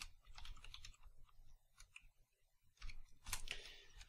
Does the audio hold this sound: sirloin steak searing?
no